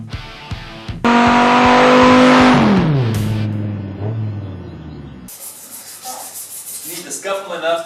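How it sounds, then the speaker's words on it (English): Fenders of a 1973 K5 Jimmy truck are scuffed by hand before a bedliner coating; a loud whining roar fades out, then quick, close rubbing strokes scratch across the surface. "give everything a good scuffing"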